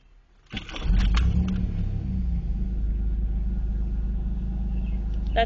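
A 1992 Chevrolet Camaro RS with engine trouble cranks briefly and catches, then settles into a steady, deep, close-up rumbling idle that runs on without letup.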